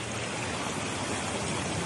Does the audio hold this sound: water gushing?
yes